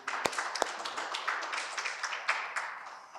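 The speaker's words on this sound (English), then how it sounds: "needs a round of applause" A conference audience at a Botswana tobacco report launch gives a round of applause, a brief patter of scattered claps in a room, fairly faint and sparse, with no voices over it.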